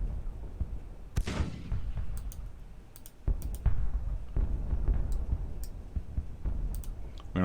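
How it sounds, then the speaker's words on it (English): Artillery booms from a Civil War battle in the strategy game Grand Tactician: The Civil War, a few sharp distant reports scattered over soft background clicking. "Well, so far we're just engaging with artillery and skirmishers."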